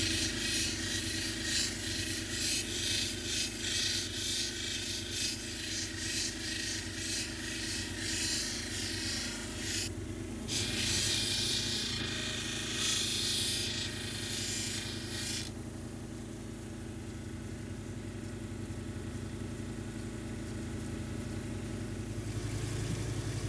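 A diamond wheel grinds a cabochon stone, giving a steady whirring hum with a rasping, scraping texture. The scraping comes in and out over the first fifteen seconds, then only the motor's drone runs on.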